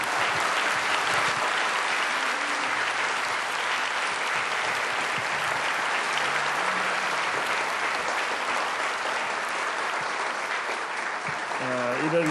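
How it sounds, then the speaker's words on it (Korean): A church congregation applauding in encouragement: sustained, dense clapping from many people that fills the room evenly and stays loud from start to finish. "격려와 사랑의 박수를 한번 해주세요."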